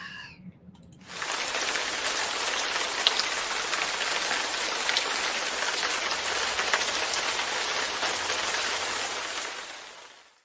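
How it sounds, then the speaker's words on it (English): Spring rain falls steadily, starting abruptly after a brief quiet moment and then holding as a dense, close hiss of drops striking surfaces, with no voices present. "Nice little spring rain."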